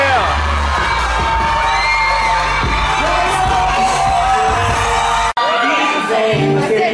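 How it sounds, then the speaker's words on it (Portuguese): A dense, loud crowd keeps up shouting and cheering without pause at a comedy show, with a single sharp bang near the end. "Tá mó gritaria aqui, galera. Não dá pra ouvir nada"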